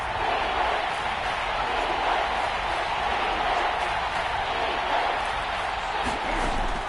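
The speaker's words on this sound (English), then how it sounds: "The crowd getting into it as we come up on a big 3rd down." Steady roar of a video game stadium crowd in Madden football ahead of a big third down, a loud continuous wash of cheering with no clear peaks, and no one talking over it.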